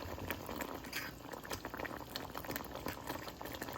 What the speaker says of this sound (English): And our sauce has started to boil.